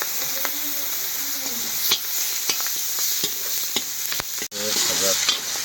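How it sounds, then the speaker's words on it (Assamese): Onion and chili fry in a pan with a steady broadband sizzle, punctuated by sharp clicks and scrapes of stirring, close and fairly loud throughout. "পিঁয়াজ জলকীয়াটো ফ্ৰাই কৰি লওঁ আগতে।"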